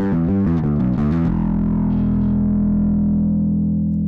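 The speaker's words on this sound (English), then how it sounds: "I'm going to see what I can do with that first distortion I liked" A bass guitar played through distortion on a Darkglass combo amp gives a few quick gritty notes, then one thick, hot note that sustains loudly to the end.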